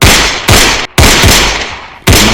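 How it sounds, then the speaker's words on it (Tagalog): Gunfire near farmland in Pangasinan before dawn, sharp loud blasts in quick succession, each with a short decaying tail and one brief gap between them. "5 sunod-sunod na putok ng baril ang gumising sa iilang kabahayan na malapit sa bukirin"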